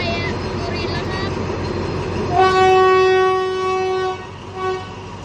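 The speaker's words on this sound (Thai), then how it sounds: "นี่กำลังจะเร่งออกมา เคลื่อนตัวจากสถานีรถไฟสุรินทร์แล้วครับ" Thai ordinary train 233 pulls away from Surin railway station, its carriages rumbling steadily before a loud, sustained horn blast sounds close by, followed by a shorter toot.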